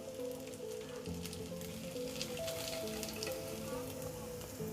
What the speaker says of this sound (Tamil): எல்லா கட்லெட்டும் வந்து எண்ணெயில் ஃப்ரை பண்ணி எடுத்துடலாம்